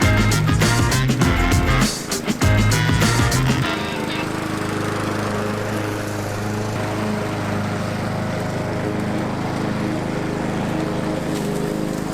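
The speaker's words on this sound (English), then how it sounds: "after mowing, you can see that I set the mower down to as low as it goes" Loud clattering of a mowing machine rings out for the first few seconds, then gives way to a steady, lower engine drone running continuously nearby.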